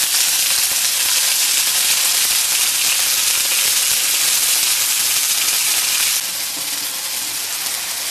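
Broccoli and other vegetables for beef and broccoli stir-fry in a hot pan, producing a loud, continuous hissing sizzle that eases slightly toward the end, with no talking.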